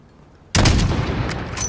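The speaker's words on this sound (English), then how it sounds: "Fire when you're ready." A single loud sniper rifle shot from the video game Call of Duty: Modern Warfare cracks out of near quiet, then a ringing tail with faint mechanical clicks follows.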